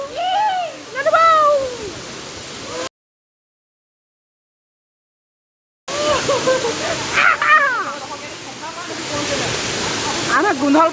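A waterfall roars with a steady, full rush of water while voices talk over it. The sound drops out completely for about three seconds, then returns just as loud.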